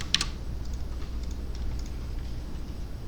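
Code being typed on a computer keyboard, a brief quiet run of clicking keystrokes over a steady low hum of room noise.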